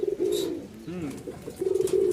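Giribaz pigeons brooding two eggs together give low, rolling coos in a few close, moderately loud phrases with short pauses between them.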